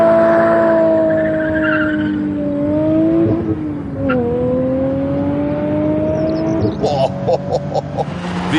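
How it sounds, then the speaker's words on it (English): Aston Martin DB7 with a 6-litre V12 revving hard and accelerating through gear changes, a loud close engine howl rising and dropping in pitch, with some tyre noise and faint talk underneath. "The 6-litre V12 is more powerful than you get in a normal DB7"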